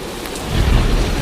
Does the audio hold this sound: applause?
no